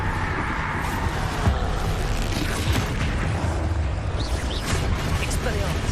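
The Bombarda blasting spell in Hogwarts Legacy goes off as a loud, dense rumbling boom in a busy battle mix. The blast sits under steady talk.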